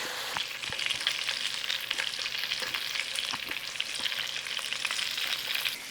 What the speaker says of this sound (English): So now we're going to start to fry some colour on our sausage.